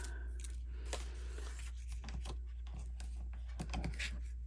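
Paper bows for a handmade card being cut out with scissors, a run of quick crisp snips and rustles at close range over a steady low hum, with no talking.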